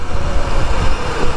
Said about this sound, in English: It's very windy too right now.